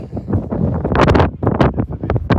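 Strong gusty wind buffeting the microphone on Mount Wellington in Tasmania, loud and close with rumbling blasts and brief lulls, no talking.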